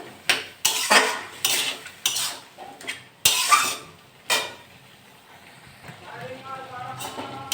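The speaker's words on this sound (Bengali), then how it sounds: "এটা ভালো করে নেড়ে চেড়ে নেবো।" Shrimp, bottle gourd and potato curry stirred in a pan, a handful of sharp metallic clanks and scrapes of the spoon against the vessel, close and uneven, fading to a quieter background near the end.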